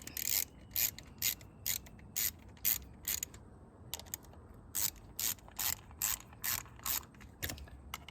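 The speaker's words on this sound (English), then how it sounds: "our 8mm socket is what we'll need to remove these. So, loosen them all off." Ratchet with an 8mm socket loosening bolts on a Kawasaki KLX140 dirt bike during an oil change: repeated short bursts of sharp ratcheting clicks in a steady rhythm, close up, with brief pauses between strokes and no talk.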